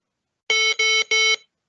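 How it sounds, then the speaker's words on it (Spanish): Three evenly spaced electronic beeps from a shuttle walking test recording, each a loud, clean tone about a quarter second long, marking a level change, with silence before and after. "Recuerda que los 3 pitidos son un cambio de nivel y que hay que caminar más rápido."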